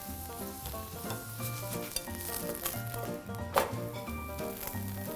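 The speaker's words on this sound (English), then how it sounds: "I am transferring the paratha on a heated skillet which is on medium flame. Dropping in some oil." Paratha sizzles in oil on a heated skillet over medium flame, a steady close frying hiss under a light musical background throughout.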